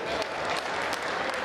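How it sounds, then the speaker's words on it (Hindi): An audience at a Hindi comedy poetry recital gives the poet a short burst of dense, steady clapping, close and continuous. "तो एक बार मेरे सम्मान में भी तालियां बजाइए"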